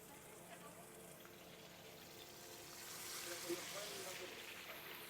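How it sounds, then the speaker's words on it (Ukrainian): Meat sears in a hot, smoking pan with a faint, steady sizzling hiss that swells slightly partway through. "Це момент ідеальний, коли наше м'ясо йде запечатися. І таке звук."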